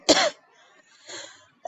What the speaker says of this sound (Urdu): میں بولتے ہوئے کافی مجھے کھانسی آ جاتی ہے